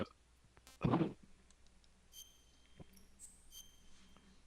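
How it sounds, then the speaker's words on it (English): A few soft keyboard keystrokes tick quietly in a near-silent room, with one louder, fuller click-burst early on followed by sparse, faint taps. "It's my typing."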